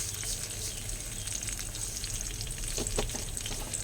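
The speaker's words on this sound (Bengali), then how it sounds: "তেলের মধ্যে পেঁয়াজ কুচি দিয়েছি" Chopped onion and black cumin seeds frying in oil, giving a dense, even sizzle with light crackling, close-up and uninterrupted by speech.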